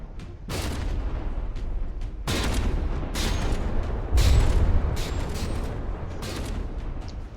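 Artillery shells firing and landing in the From the Depths naval combat game, a series of heavy booms and blasts in rapid bursts, one stronger deep impact among them, with no voices.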